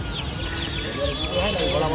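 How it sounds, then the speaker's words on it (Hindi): High, thin chicken chick cheeps repeat through a loud, busy background of clucking fowl and indistinct voices nearby. "ये रहा मुर्गी का बच्चा"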